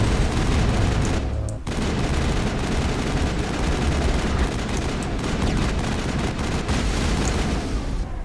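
Sustained, dense weapon fire from the Mass Effect video game, a steady barrage of shots and blasts against a large enemy, with a short dip near the start and then continuous loud firing to the end.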